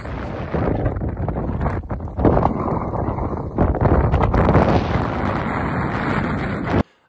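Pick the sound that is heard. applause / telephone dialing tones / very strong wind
very strong wind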